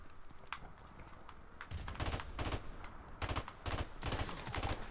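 Gunfire in Modern Warfare Remastered, heard as a series of rapid sharp bursts that grow denser and louder in the second half over steady game background noise.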